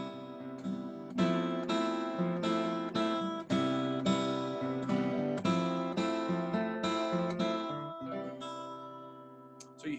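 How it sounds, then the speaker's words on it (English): A I–IV chord progression in C voiced as seventh chords, played on a sustained keyboard-like instrument, with about eight evenly spaced chord strikes ringing out fully and alone, no talking. "if we do that same chord progression, but we use 7th chords, it sounds like this"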